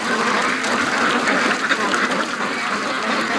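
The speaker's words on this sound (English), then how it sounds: "There's the two Muscovy waiting." Muscovy ducks calling in a dense, continuous outdoor chorus of overlapping quacks at moderate distance, with no talk over it.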